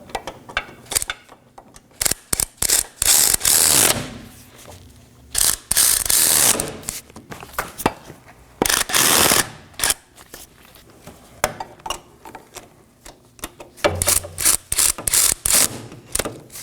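A hand ratchet snugging down the wheel hub assembly bolts on a 2013–2019 Nissan Sentra during a rear wheel bearing replacement. Bursts of rapid clicking pawl sounds stop and start over and over, close and loud, with no talking.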